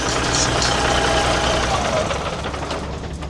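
A 1986 Peterbilt 359 truck with a mechanical Cat engine idles close by with a loud, knocking diesel rumble that eases slightly toward the end, while people talk over it.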